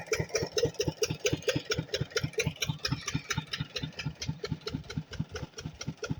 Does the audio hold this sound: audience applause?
no